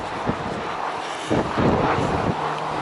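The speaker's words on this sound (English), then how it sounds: "Yeah, it's gone very windy, I'm afraid." Gusty wind buffets the microphone outdoors on an old railway line in Cwm Prysor, a loud rumbling roar that swells and eases throughout with no one speaking.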